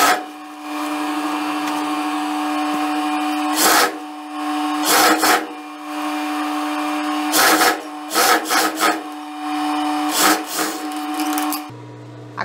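A sewing machine stitches the side seam of a midi skirt in a steady motor whir with a constant hum, broken by several short louder bursts of fast stitching and brief pauses.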